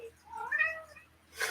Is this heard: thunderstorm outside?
no